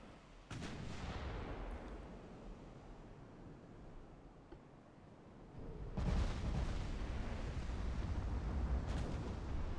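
18-inch naval guns firing in Ultimate Admiral Dreadnoughts: two heavy, booming salvos with sharp onsets, each followed by a long rumbling roar that lingers, the second louder and fuller.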